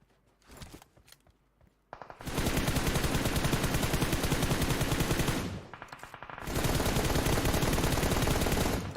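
Sustained automatic gunfire during a PUBG Mobile match, loud dense bursts of rapid shots lasting several seconds each, with a short pause between them, and no talk over it.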